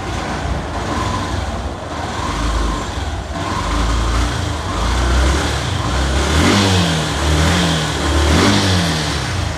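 A Yamaha YTX 125 motorcycle engine, warmed up, revs repeatedly, rising and falling in pitch, loud and close, with steady mechanical rumble between revs.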